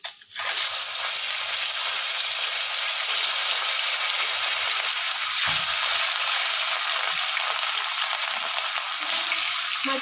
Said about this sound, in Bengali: সর্ষের তেলটা এখন গরম হয়ে গেছে। এখন আমি এতে মাছগুলো দিয়ে দেব।